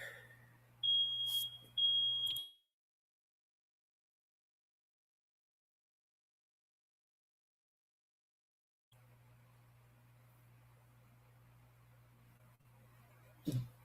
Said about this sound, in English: it's setting off the the smoke alarms